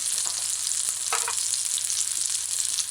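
Fish fries in cooking oil in a pan, a steady, loud, close hiss and crackle of sizzling that continues throughout with faint scattered pops and no talking.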